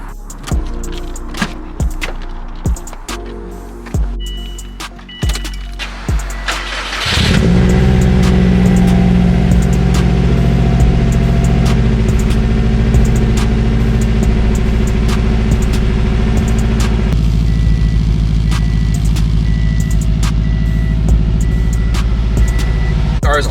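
Subaru WRX with a 5-speed manual transmission: a few clicks and key jingles come first, then the engine cranks and catches, settling into a loud, steady idle that drops slightly in pitch later.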